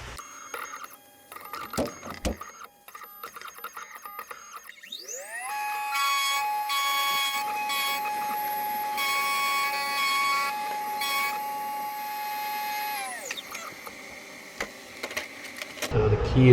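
A key cutting machine grinds a Y159 key blank for a 2006 Dodge ignition, a steady high whirring cut lasting about eight seconds that starts and winds down smoothly, with faint clicks and handling noises before and after.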